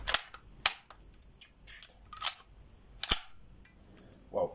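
Several sharp, loud shots from a Uzi pistol in 9x19 firing closed-bolt, spaced irregularly over a few seconds with quiet gaps between, ending in a brief softer mechanical clatter.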